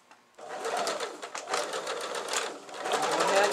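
A sewing machine stitches fabric for a cushion cover, running close and steady with a rapid mechanical chatter after a quiet start, with no talking over it.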